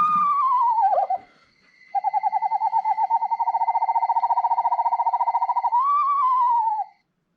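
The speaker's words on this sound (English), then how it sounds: "So let's hear that eastern screech owl again." Eastern screech owl call, a loud close whinny that descends, pauses, then runs into a long rapid even trill before ending in a short falling whinny.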